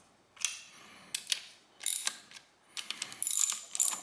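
Short ratcheting clicks come from bolts being tightened on a TH400 transmission during a rebuild for a 1968 GTO. The bursts are close and fairly quiet, with brief pauses between them and no talking.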